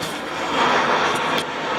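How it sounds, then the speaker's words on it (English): An airplane passes overhead near a dumpster, a steady broad roaring drone that swells slightly in the middle and then holds for the short stretch. "Airplane."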